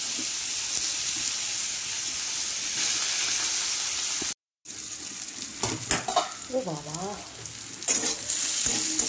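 Oil sizzles and crackles steadily as chopped onions hit the pan, with stirring scrapes; a brief gap, then a voice exclaims over the frying.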